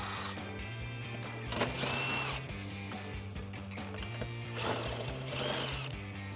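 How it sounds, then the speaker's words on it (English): A power tool drives a 13mm socket on an extension to remove bolts from a Jeep Wrangler JL tire carrier hinge, whirring in short bursts with pitch changes and ratcheting, close and moderately loud. "I'm using a 13mm socket and a 3-inch extension again."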